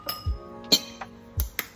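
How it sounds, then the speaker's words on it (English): Eggs cracked against the rim of a bowl while mixing Nigerian doughnut batter, a few sharp clinking taps spaced apart, close and clear with no talking. "I always like to crack it first"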